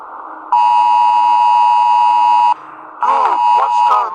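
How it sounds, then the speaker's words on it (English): An alarm system sounds a loud, steady electronic tone for about two seconds, then, after a short gap, a series of warbling, chirping beeps. "Must be an alarm system."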